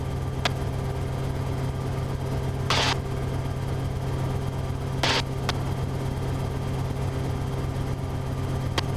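Steady drone of a small aircraft engine in flight during a training lesson, constant and loud inside the cabin, with a few brief clicks and bursts of radio static over it.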